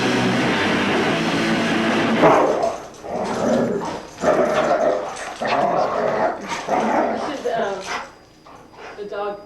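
Dogs bark, yip and growl in a rowdy dog mosh pit, bursts of noise rising and falling in an irregular, continuous scramble with a busy crowd-like background.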